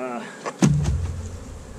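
Honey bees buzzing around an open hive during an inspection, a steady close drone with a few louder passes near the microphone and no talk over it.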